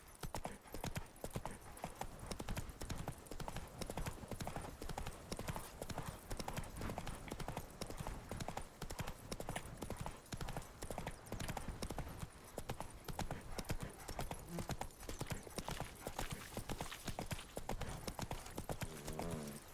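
Horse hooves clip-clop at a quick, even rhythm in The Witcher 3: Blood and Wine, a continuous trotting patter that stays fairly quiet with no voices over it.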